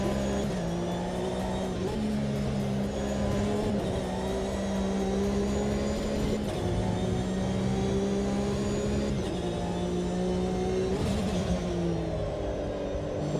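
Super trophy truck engine in the racing game Automobilista 2, revving loudly and continuously with stabbing throttle blips, the pitch rising and dropping through gear changes, close and alone.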